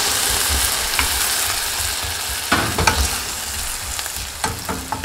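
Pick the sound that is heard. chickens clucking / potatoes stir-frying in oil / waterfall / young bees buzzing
potatoes stir-frying in oil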